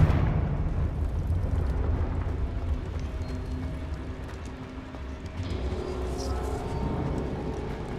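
Rumbling fiery explosion from the Confringo spell in the Hogwarts Legacy video game, a loud low blast that swells and slowly fades with crackling debris.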